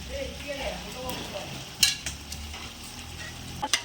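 Mutton being stirred and fried in a pot for vadi biryani gives a soft continuous sizzle, with clear metallic clanks of a spoon against the pot near the middle and at the end.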